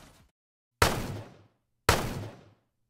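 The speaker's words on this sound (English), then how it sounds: "the game would play back the gunshot sound file" Two separate gunshot sound effects from a video game, each a sharp, loud bang with a decaying tail, about a second apart, with silence between.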